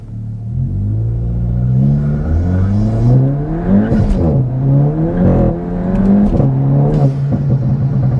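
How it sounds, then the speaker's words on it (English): A Stage 1 torque-tuned Volkswagen MK8 GTI launches hard from a light in first gear, its engine note climbing loudly and close with a rising rumble and a brief shift dip. "Let's see how violent this is on a first gear rip here from a light."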